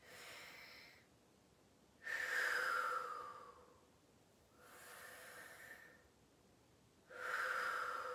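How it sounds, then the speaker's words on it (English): Four deep, audible breaths during a seated exercise, alternating slow inhales and long breathy exhales in an even rhythm. Close and fairly quiet, with no talking. "Let's take a time to take some deep breaths."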